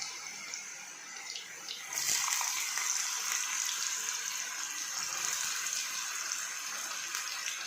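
Diced potatoes tipped into hot oil for Sindhi fried potatoes, a soft sizzle that suddenly swells into a louder, steady hiss and crackle partway through.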